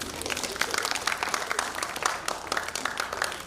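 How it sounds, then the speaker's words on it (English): An audience at a summit breaks into steady clapping, a continuous patter of many hands with scattered sharper claps, sustained and fairly even throughout with no talk over it. "Clap for me, please."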